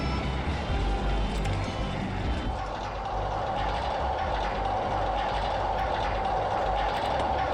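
A mine train roller coaster in the video game RollerCoaster Tycoon runs with a steady, loud rumbling roar of cars on track that never lets up.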